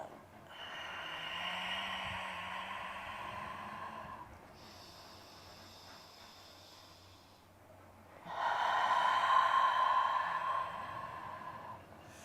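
Slow, soft breathing during a yoga pose, two long airy breaths close to the mic separated by a quiet pause, the second louder and fuller than the first.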